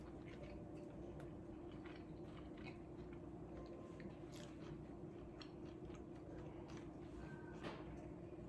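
Close, soft biting and chewing of a hot, cheesy low-carb keto pepperoni chicken mozzarella bake, with wet crunches and squishy mouth sounds repeating irregularly over a steady background hum, no talking.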